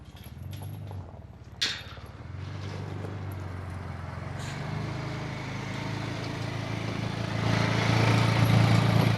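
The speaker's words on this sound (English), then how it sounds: "Nothing like vacuuming your pasture." An engine-driven vacuum machine cleans a horse pasture, its motor droning at moderate distance and growing louder toward the end, with a brief clatter early on.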